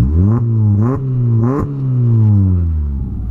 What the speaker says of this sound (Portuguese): Ih, o carro tá berrando, rapaziada.